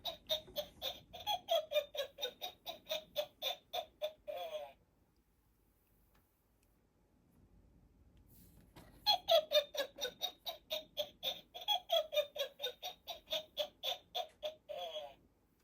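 A Dollar Tree talking Halloween witch decoration's electronic cackle, rapid pulsed bursts of laughter for about four seconds, a pause, then another long cackling burst.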